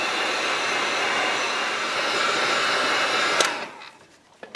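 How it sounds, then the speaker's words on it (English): A heat gun blows a loud, steady hot-air roar over fresh red and black paint, then cuts off abruptly near the end, leaving a few faint clicks. "Let's go ahead and put the heat gun to this, dry it"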